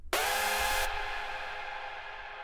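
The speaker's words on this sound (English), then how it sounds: "Sometimes I use a delay after the reverb," A hardstyle synth lead sounds one bright, sustained chord, with delay placed after reverb, then trails off into a long, washy, spacious tail, heard alone at moderate level.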